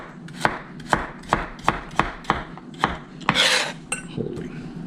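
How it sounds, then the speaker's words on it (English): A knife chops carrots on a cutting board at a home kitchen counter, about a dozen crisp, evenly paced thunks close up, with a brief scraping swish partway through and no talking. "Chopping carrots"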